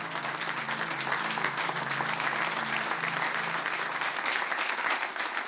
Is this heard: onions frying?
no